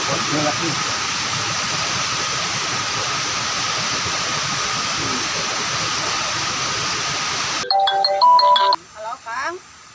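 A telephone ringtone plays loudly for a few seconds near the end, with a melodic, repeating electronic pattern that cuts in suddenly after a long stretch of steady, rushing background noise.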